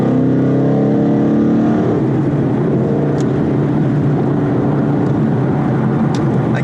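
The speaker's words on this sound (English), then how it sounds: "this is catless, which don't tell California, but this is actually a lethal off-road H-pipe" Ford Mustang 5.0 with a catless exhaust and off-road H-pipe cruising in traffic, a loud, deep, steady engine drone from inside the car, with a slight rise in pitch early on.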